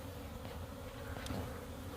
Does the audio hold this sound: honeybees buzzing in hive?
yes